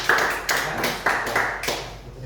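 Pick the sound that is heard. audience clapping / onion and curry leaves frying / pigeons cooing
audience clapping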